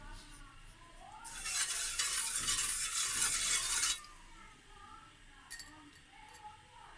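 Milk and sugar are stirred in a pot on the stove, a loud scraping, swishing burst lasting a few seconds, then quieter kitchen sounds with a few light clinks.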